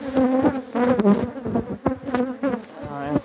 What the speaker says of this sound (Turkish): Kılıç arısı.